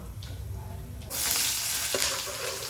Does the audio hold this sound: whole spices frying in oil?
yes